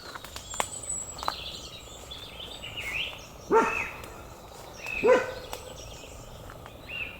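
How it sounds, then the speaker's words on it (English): A dog barks twice in woodland, two short, fairly clear barks a second or so apart, set against soft birdsong and insect chirping. "It's unusual for Jack to bark here in the woodland."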